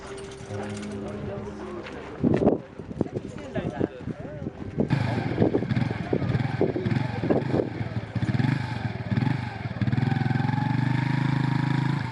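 A motorbike carrying a disabled man on the back is ridden away from a town hall, its engine puttering and revving with clattering bursts under a busy street mix, while people talk nearby.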